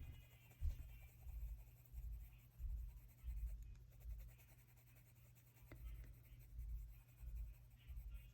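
Colored layering pencils scratch across paper in close, soft, rhythmic strokes, short bursts repeating steadily with brief pauses, quiet and alone.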